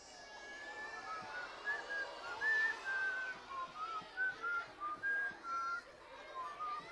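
A person whistles a wandering, sweet-toned tune in a run of short melodic phrases, moderately close, with faint background noise and light shuffling beneath.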